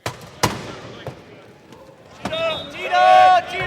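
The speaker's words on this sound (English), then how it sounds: "That's the sound of wheelchair rugby, also called murder ball." Sharp impacts and clattering bangs of wheelchair rugby echo in a large hall, with scattered thuds, then a burst of squeaking tires and rattling metal near the end.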